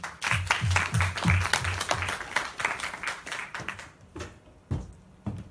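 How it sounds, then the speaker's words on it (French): A studio audience on a French TV quiz show applauds a young contestant with crisp, close handclaps that are brisk at first, then thin to a few scattered claps. "On peut l'applaudir elle aussi."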